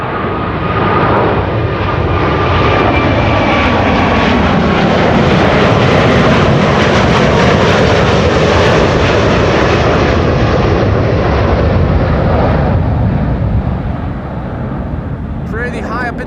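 Airliner jet engines roar loud and continuous at Amsterdam Schiphol Airport, a broad steady rumble with a whining tone as the plane climbs away, easing slightly near the end.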